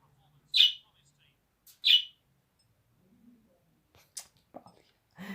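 Pet bird giving a few short, sharp chirps spaced apart, fairly close, with faint soft sounds in between.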